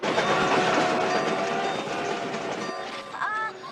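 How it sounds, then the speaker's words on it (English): A runaway train rattles along the rails with steady loud rumbling and clickety-clack, continuous throughout with a brief squeal near the end. "I think this train's out of control."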